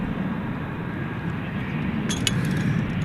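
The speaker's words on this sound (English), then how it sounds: "Here goes Flight 1636 to Portland, Oregon. It's an Airbus A321." An Airbus A321 departing DFW at night for Portland, Oregon, its engines a continuous low rumbling drone, moderately loud and steady, with a brief higher hiss partway through.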